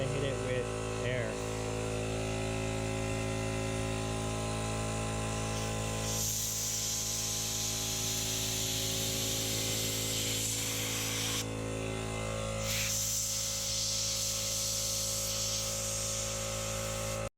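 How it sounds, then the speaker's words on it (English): Compressed air blasts out the windshield molding channel of a BMW E90 3 Series, giving long hissing bursts against a steady hum, with brief pauses between them. "So I'm gonna hit it with air."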